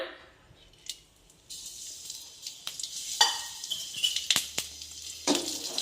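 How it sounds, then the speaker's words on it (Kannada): Green chilies roasting in oil in a pan for a tomato chutney, a steady bright sizzle that starts partway through, with sharp clinks and scrapes of a utensil stirring. "ಈಗ ಹಸಿ ಮೆಣಸಿಗೆ ಹುರ್ಕೋತೀನಿ. ಇದಕ್ಕೊಂದು ಚಿಟಿಗೆ ಎಣ್ಣೆ ಹಾಕೋಣ."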